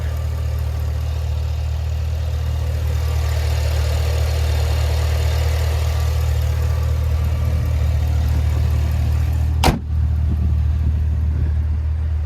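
The 6.2-liter supercharged V8 of a 2023 Cadillac Escalade V idles with a steady, deep low hum under the open hood, broken near the end by a single sharp click or thump.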